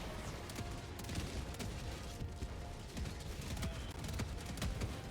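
Gunfire against Automaton robots in the video game Helldivers 2, sharp rapid cracks and bursts over a dense, loud, constant backdrop of battle noise, with no talk over them.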